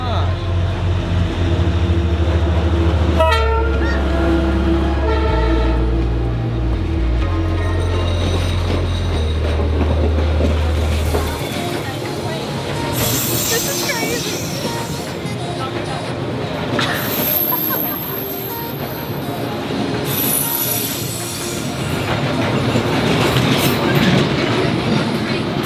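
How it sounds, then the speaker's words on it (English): A long train rumbles past at very close range through a narrow Hanoi street, its horn blaring and wheels clattering and squealing over the rails, loud and sustained with crowd voices and exclamations mixed in. "The train is here, and everybody is getting as far to the side as he can because I'm pretty sure it gets really, really close."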